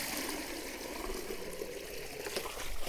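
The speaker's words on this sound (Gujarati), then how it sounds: "ચલો કુંડાળામાં રેડી દઈએ." Cold borewell water pours into a clay bird water trough in a village, a continuous close splashing trickle with no talk.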